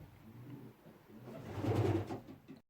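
Pigeons coo in a loft housing around two dozen birds, low throaty rolling calls that swell near the middle, close by, then cut off abruptly.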